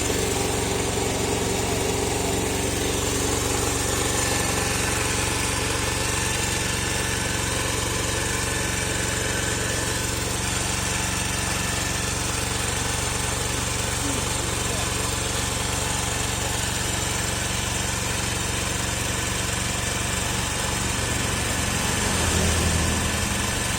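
A motorcycle engine idles steadily at a carbon cleaning workshop in Butwal, a constant mechanical drone with a low hum running the whole time and no break in level.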